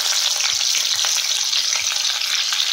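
Garlic and green chillies fry in hot oil with a loud, dense, continuous sizzle close by, a few light stirring touches breaking through.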